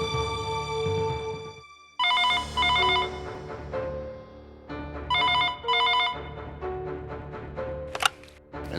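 A telephone rings in a Hindi crime drama series, with loud, repeated bursts of bright electronic tones that pause briefly between rings and carry on without any talking.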